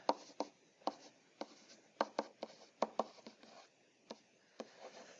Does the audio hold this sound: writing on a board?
yes